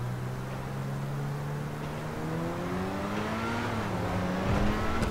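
An engine note from a car driven in the video game GTA 5 holds steady, then climbs gradually through the gears as it accelerates, with a fairly loud and continuous drone and no speech.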